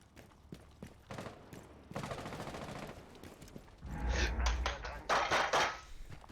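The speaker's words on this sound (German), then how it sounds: "Achtung, oben schießen sie." Rainbow Six Siege gunfire crackles in rapid bursts, first scattered sharp shots, then longer dense automatic volleys that grow louder toward the end.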